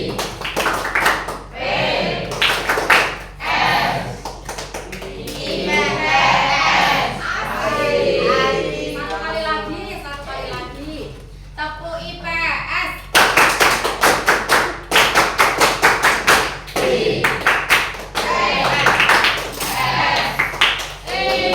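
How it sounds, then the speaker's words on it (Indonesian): A group in a classroom claps the rhythmic Tepuk IPS chant, sharp patterned claps alternating with chanted voices, loud and close, with a stretch of mostly spoken chanting in the middle. "Tepuk IPS tadi digunakan lagi ya."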